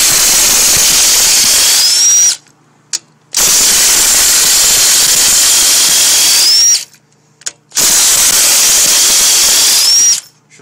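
A battery-powered 3/8-inch drive impact wrench removes bolts from a lawn tractor with a 4-cycle engine, giving three long loud whirring, hammering runs, each ending in a brief rising whine and followed by short clunks.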